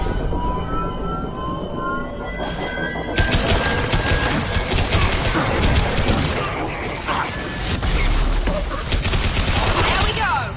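Rapid gunfire from a squad shooting at the injection tube in the Mass Effect 2 finale, dense continuous bursts layered with game effects and music, loud throughout.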